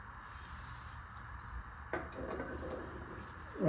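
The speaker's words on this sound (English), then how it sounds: "Now I'll use brake clean, spray it off." Brake cleaner hisses from an aerosol can onto a motorcycle clutch part on a Servi-Car during a clutch install: a sudden, steady spray that starts midway and continues, fairly quiet and close, with no talk.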